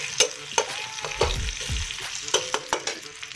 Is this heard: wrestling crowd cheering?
no